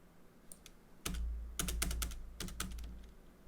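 Keys clatter on a computer keyboard in short bursts of close, crisp clicks, a few isolated taps followed by rapid clustered strokes against a low steady hum in a quiet room.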